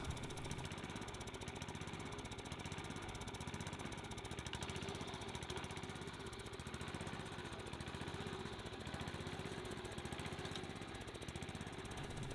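A walk-behind sod cutter's engine runs steadily with a dense mechanical drone and rattling vibration, constant and unbroken throughout, no talking.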